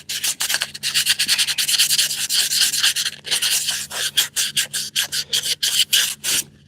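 Hand sanding of wood: a steady run of rhythmic rubbing strokes, continuous at first and then breaking into distinct, evenly spaced passes, close and fairly loud with no talking.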